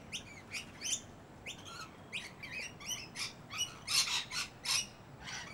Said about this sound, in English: There are some babies in there. They're the ones going cheep cheep.